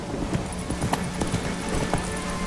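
Hooves of Roach, the horse in The Witcher 3 on Skellige, clip-clopping at a steady walking pace, close and clear over a soft ambient game background.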